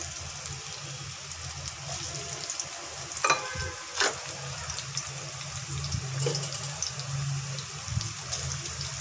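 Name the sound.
bean seeds frying in a pan after fried fish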